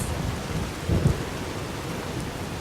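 Rain pours steadily in the Fallout New Vegas video game, with a low rumble of thunder swelling briefly near the middle; the storm is constant and moderately loud, with no voices.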